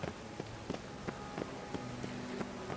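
Soft, regular footsteps in The Witcher 3: Wild Hunt tap along at a walking pace over a steady background hum, evenly spaced and fairly quiet.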